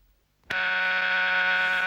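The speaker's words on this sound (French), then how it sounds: "Imaginons que cette sonnette soit l'alarme. Dès que j'appuie sur son bouton" An electric doorbell buzzer starts abruptly and sounds continuously, a loud, harsh, steady buzz used as an alarm.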